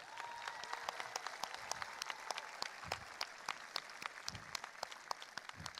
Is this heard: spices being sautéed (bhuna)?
no